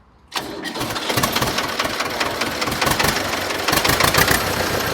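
An HMT 2511 tractor's diesel engine cranks and catches abruptly, then settles into a loud, steady, knocking idle close by, alone without talk.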